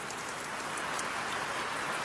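Rain has just started falling on a grove of banana trees in a village, giving a soft, even, continuous patter with no voices.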